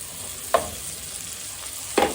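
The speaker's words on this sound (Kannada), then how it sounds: "ಇವಾಗ ಈರುಳ್ಳಿ, ಬೆಳ್ಳುಳ್ಳಿ, ಶುಂಠಿ ಎಲ್ಲ ಸ್ವಲ್ಪ ಹುರ್ಕೊಂಡಿದ್ದಾಗಿದೆ" Chopped onion, ginger and garlic fry in a pan with a steady, soft sizzle, broken by two sharp scrapes of a spoon against the pan about a second and a half apart.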